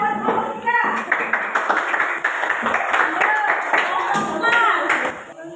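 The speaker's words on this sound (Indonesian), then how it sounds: "Tepuk tangan buat kelompok 3." A classroom audience claps for a student presentation group, broadband applause spread across the whole stretch with talk and chatter mixed underneath.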